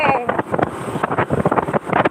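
Heavy wind buffets the microphone of a rider on a moving motorcycle, a loud, gusty roar that rises and falls in uneven bursts and keeps going.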